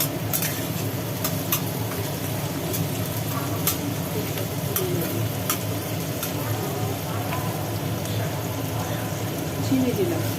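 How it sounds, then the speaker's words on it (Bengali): Onions and a bay leaf fry in a pan with a continuous crackling sizzle, with occasional sharp clicks from stirring heard close up. "পেঁয়াজটা মোটামুটি ভাজা হয়ে গেল"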